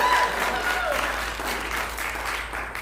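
Audience applause fills a hall at a live-streamed church service honoring a woman who made floral arrangements, steady and fairly close throughout with no break.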